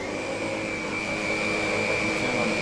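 A Sauber/LUX Excellence vacuum cleaner runs at reduced power, a steady close whine and airy motor drone that holds level throughout with no talking.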